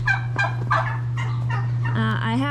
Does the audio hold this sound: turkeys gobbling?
yes